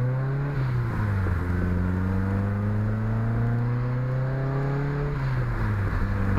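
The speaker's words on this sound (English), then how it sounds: "get her up to highway speeds" A 1986 Honda CRX Si accelerates onto the highway in rush hour, its engine droning steadily from inside the car and climbing in pitch through the gears, with a brief dip at each shift.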